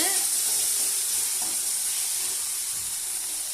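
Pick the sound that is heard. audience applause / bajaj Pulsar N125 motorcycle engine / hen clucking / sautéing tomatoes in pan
sautéing tomatoes in pan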